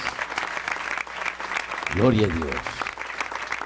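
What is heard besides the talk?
congregation applauding in church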